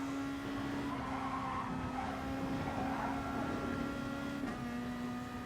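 Race car tires squealing under late braking in Gran Turismo Sport, a sustained screech over a steady engine drone, loud and continuous with a slight shift in pitch partway through.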